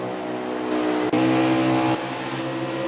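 Race cars roar around Dover during the Gander RV 400, engines loud and close in a sustained, droning howl that dips sharply once before surging back, with no talking.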